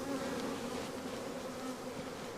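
Bees crowding in and out of the hive entrance make a dense, steady, low buzzing hum that holds throughout.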